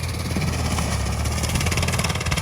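A Swaraj 744 tractor engine running with a banana cutting machine attached, a loud, steady, close diesel drone with constant vibration and no pauses.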